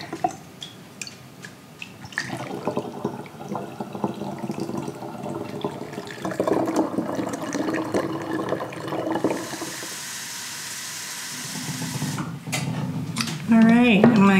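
Hot water poured from a kettle into jars while making mead, a steady running, splashing pour of moderate loudness with a person talking over parts of it and a brief clink near the end.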